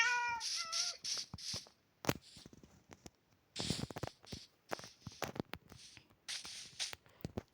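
A cat meows in a video game, several short high mewing calls in bursts with pauses between, alone and fairly quiet.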